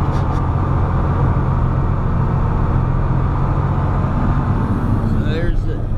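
Inside the cab of a triaxle dump truck, the engine drones loud and steady as it is given gas during dumping, a continuous low rumble with someone talking over it.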